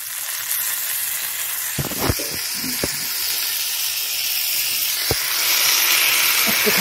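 Ginger, garlic and chilli pastes frying in a pan for rajma ghugni: a steady bright sizzle and hiss throughout, broken by a few sharp clinks of a spoon against the pan, growing a little louder toward the end with no talk.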